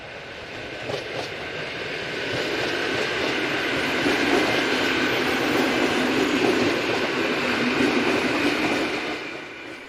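A Polish freight train hauled by an ET41 double electric locomotive rumbles past with a loaded coal train, a steady broadband roar of wagons and wheels on track that swells and holds for about ten seconds with no talk.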